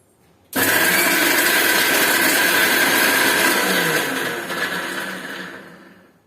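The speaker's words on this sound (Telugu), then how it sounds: "చింతపండు మూడు పిక్కలు ఇప్పుడు గ్రైండ్ చేసుకోవాలి" A kitchen mixer grinder whirs loudly and steadily as it grinds tamarind and other mint chutney ingredients, starting abruptly and running for several seconds before its pitch begins to drop and fade near the end.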